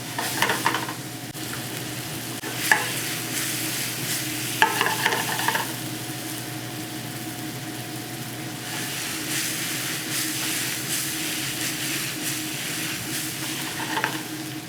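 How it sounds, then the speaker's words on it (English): Onions sweat in a pan and are stirred now and then while a French chef cooks, a steady soft sizzle running throughout with a few louder scraping stirs near the start and end. "we're going to just give a little sweat to those onions"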